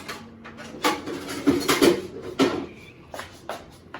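A spoon scraping bean dessert (dulce de habichuela) in a pot, several close metallic scrapes and knocks in an uneven rhythm, fairly loud with short gaps.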